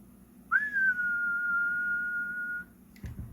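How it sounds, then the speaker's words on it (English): A person whistles a single steady, sustained note lasting about two seconds into the microphone of a Cobra 148 GTL AM/SSB CB radio, clear and close, followed by a brief clunk. "Let's give it a little whistle in there and see what the swing is"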